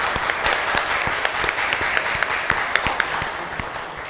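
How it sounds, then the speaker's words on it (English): A church congregation at a Sunday contemporary service claps for students and their families, a dense, steady round of applause from many hands, fairly close and continuous with no talk over it. "Why don't we give these students and their families a round of applause."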